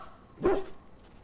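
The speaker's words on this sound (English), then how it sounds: "Happy bark." A single dog bark from Dragon Age: Origins, short and moderately loud, rising out of quiet game ambience.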